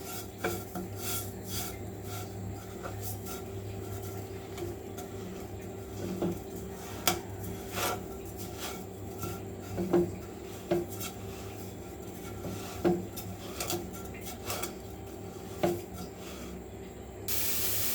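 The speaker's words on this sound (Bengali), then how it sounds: "এগুলা ভালো করে নেড়ে চেড়ে মাখিয়ে নিতে হবে" Curdled milk and sugar being stirred in a pan over a gas flame for sandesh, heard as steady rasping scrapes with soft metallic clinks recurring at irregular intervals under a low constant hum.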